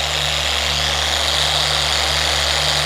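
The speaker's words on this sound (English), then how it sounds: "I really love this little polisher just because it's small and a lot easier to work" A small handheld car polisher runs on a 2022 BMW M3 Competition, giving a loud, steady motor whine and buzzing vibration close up with no pause.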